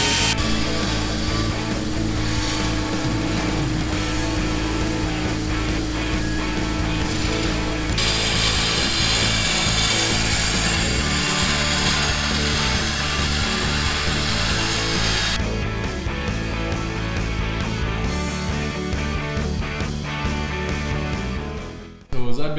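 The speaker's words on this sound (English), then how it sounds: "I think Jed is going to bring his bandsaw out to cut this" Bandsaw cutting an aluminum airbox plate for a Kawasaki KX 500 aluminum frame build, a loud continuous grinding whine with shifting tone and metallic rattling that holds steady for over twenty seconds.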